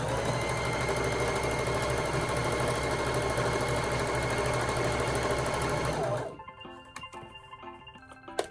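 A sewing machine stitches elastic onto a homemade fabric face mask in a loud, steady mechanical hum with a rapid needle rhythm for about six seconds, then stops, leaving faint handling clicks and movement.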